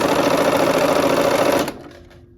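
A sewing machine runs steadily while stitching quilt seams for a barn quilt sampler, a loud, fast, continuous whir that stops abruptly near the end, leaving a faint quiet tail.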